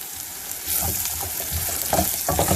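Ginger and garlic dropped into hot oil for green moong dal, a close sizzle that swells after a moment, with stirring scrapes and crackles building toward the end.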